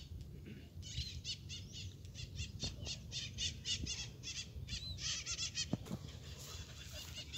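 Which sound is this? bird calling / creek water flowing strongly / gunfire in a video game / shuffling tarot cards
bird calling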